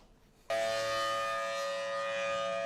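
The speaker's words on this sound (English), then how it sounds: "When tornado sirens go off" A civil defense tornado siren starts abruptly after a brief quiet moment and then sounds steadily, loud and sustained with a droning, constant tone.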